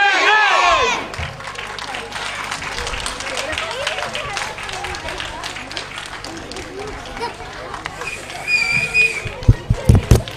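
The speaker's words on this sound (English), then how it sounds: "Let's give them another round of applause, please." A crowd at a school play about Gandhi's Dandi march claps and cheers, a dense sustained applause with chatter and voices mixed in, swelling again near the end.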